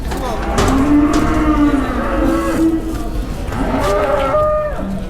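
Several cattle moo loudly and repeatedly at a Balıkesir Havran livestock market, long drawn-out calls rising and falling close by over a busy crowd murmur.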